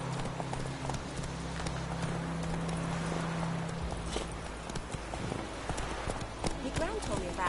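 Horse Roach from The Witcher 3 trotting along in steady clip-clop hoofbeats, moderately loud and continuous, with game ambience and a low hum beneath.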